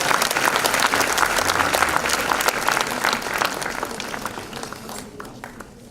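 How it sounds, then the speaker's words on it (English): A conference audience applauds as actress Sonali Bendre is welcomed onto the stage, loud dense clapping from a large room that holds steady, then thins and fades out near the end. "A big round of applause, please."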